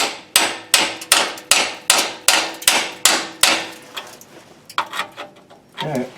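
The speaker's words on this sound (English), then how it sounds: "Thinking about hammering a smaller socket on there." A metal hammer strikes a socket onto a corroded exhaust bolt on a 2010 Toyota Camry, about nine sharp, evenly spaced blows, loud and close, followed by lighter taps and clattering.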